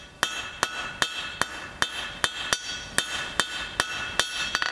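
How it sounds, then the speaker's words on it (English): Hammer blows ring sharply on hot steel stock over an anvil while a small square section is forged, about a dozen bright, evenly spaced strikes coming close and steady. "I want to forge a little square section just here"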